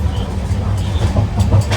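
Steady low rumble of a moving train travelling from Kannur toward Thanjavur, with continuous rattling and wind-like noise throughout, close and fairly loud.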